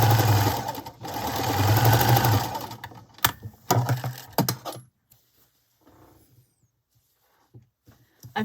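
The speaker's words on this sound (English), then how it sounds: "So I'm going to join these with a 1/4 inch seam right sides together." A sewing machine runs in close, loud bursts stitching fabric strips with a quarter-inch seam, racing steadily for several seconds, then stopping into near silence broken by a few faint clicks.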